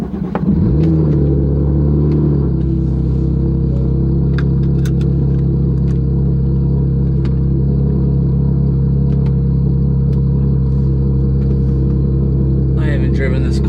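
A car's engine runs close and loud while driving, a deep steady rumble with a rising rev at the start that then holds a constant drone, ending with a burst of brighter noise.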